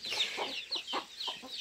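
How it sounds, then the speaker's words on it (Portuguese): Farmyard chickens cluck and squawk repeatedly in short, loud, close bursts, alone without any talking. "não vai correr atrás das galinhas"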